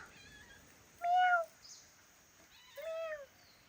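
A cat meows twice, with short rising-falling calls about a second and a half apart, close but quiet against a faint room background.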